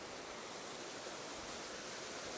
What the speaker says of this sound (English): let's try and get this waterfall